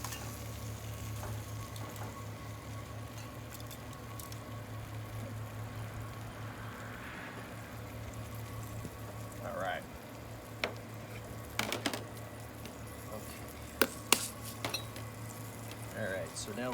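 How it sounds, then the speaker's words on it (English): Beef short ribs sizzle quietly in a pan being prepared for braising, a soft steady crackle under low-level hum, joined by scattered clinks of utensils and a few sharper metallic knocks near the end. "So now we're sizzling up here pretty good."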